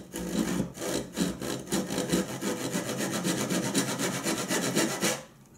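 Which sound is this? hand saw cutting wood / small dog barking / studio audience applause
hand saw cutting wood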